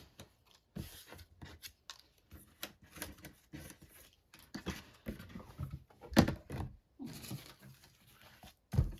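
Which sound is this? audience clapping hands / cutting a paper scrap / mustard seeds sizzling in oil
cutting a paper scrap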